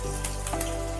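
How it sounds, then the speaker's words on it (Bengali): Cut eggplant pieces sizzling in hot mustard oil in a kadai, a dense continuous crackling spatter with a steady low hum beneath, close and even throughout. "কেটে রাখা বেগুনগুলো এবার আমি তেলের মধ্যে দিয়ে দিচ্ছি"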